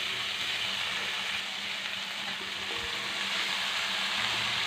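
Shredded cabbage fries in a chicken curry, a continuous moderate sizzle with soft stirring scrapes running throughout, no talk.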